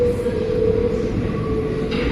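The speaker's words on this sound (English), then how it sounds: "Just getting on the metro, going to Montmarte." A Paris metro train rumbles along with a steady low roar and a thin high whine, loud and continuous, with no voices.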